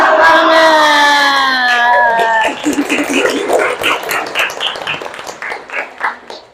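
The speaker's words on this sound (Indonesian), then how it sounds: "sekali lagi kita tepuk semangat ya, tepuk semangat" A chemistry class does the tepuk semangat clapping chant: voices first hold a loud sung shout together, then break into rhythmic group clapping with scattered calls, close and lively in a classroom.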